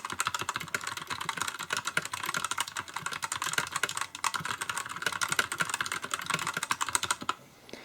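Rapid, continuous typing on a NEWMEN GM610 compact wireless mechanical keyboard with red switches, producing a dense run of close, crisp keystroke clacks that lasts throughout, with a brief pause near the end.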